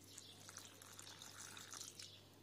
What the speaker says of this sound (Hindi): तो मैं पानी डालती हूँ इसके अंदर।